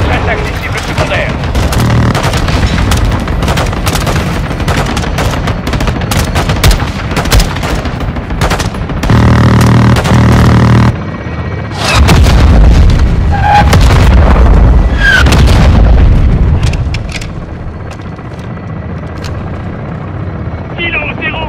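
Air support in the Modern Warfare 2 campaign: helicopter rotor drone under loud bursts of automatic gunfire and heavy explosions, with French radio voices talking over the battle.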